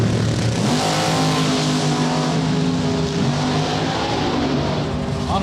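An NHRA Super Quick drag racing car engine at the staging lanes, loud and near, revving on and off the throttle in repeated surges and dips with a rough, harmonic-rich roar.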